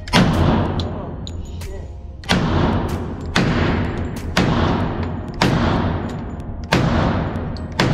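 Rapid, heavy rifle shots from a Sentry Arms AK fitted with a Palmetto State furniture kit, six booming reports about a second apart, each followed by a long echoing decay, loud and close.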